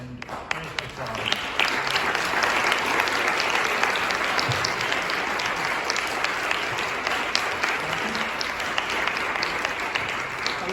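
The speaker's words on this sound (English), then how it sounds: "I invite us to give our new members a warm and great applause." A congregation applauds its new members, a full, dense round of clapping that holds strong and steady for about ten seconds, with some voices mixed in beneath it.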